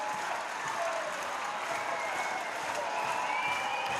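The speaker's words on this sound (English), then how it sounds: "getting a good reception from the England fans behind that goal. It's the cheer you're hearing" England fans behind the goal at a Women's Nations League match against Belgium, applauding and cheering for Fran Kirby in a steady, distant stadium roar that holds for several seconds.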